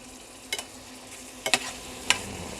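Garlic butter tiger prawns in a pan, with a soft sizzling bed and a few sharp crackles and pops at irregular moments, close and fairly quiet with no talk.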